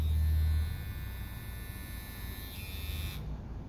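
A Kemei KM-1974 or Hairstar KM-203 electric hair clipper runs with a steady close buzzing hum and bright whine, louder at the start, then cutting off near the end.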